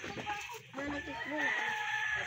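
A rooster crows once at fairly close range during an outing to Catmon, with people talking and general outdoor background noise around it.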